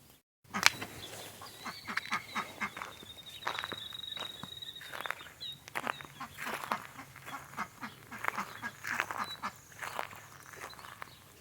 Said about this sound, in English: There's 2 ducks, and then there's another bird.